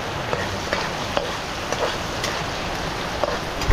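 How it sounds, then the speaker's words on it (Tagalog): Heavy rain pours steadily on a farm, a dense, loud hiss with scattered sharper drops, mixed with the sizzle of ginger being sautéed nearby and no speech. "Ang lakas ng ulan."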